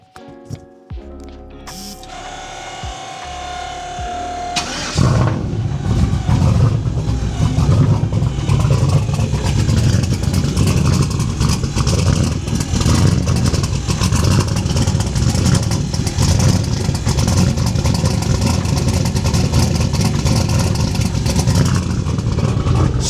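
A big turbocharged truck engine cranks and fires up, then settles into a loud, steady diesel rumble with mechanical clatter that continues close by and alone for about twenty seconds.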